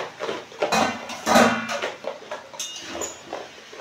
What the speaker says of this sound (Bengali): ঢাকা উল্টিয়ে দেখব কতটা কি হয়েছে